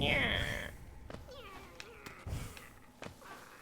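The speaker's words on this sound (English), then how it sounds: "Grimchild's making weird noises." Grimmchild, the companion creature in the Hollow Knight video game, making odd squeaky, cat-like calls, several short chirps and whines close up over the game's quiet background.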